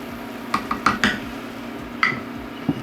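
A spoon stirs rice in a pot on a stovetop, giving a handful of sharp metallic clinks and scrapes against the pot at irregular intervals, close and clear with no talking.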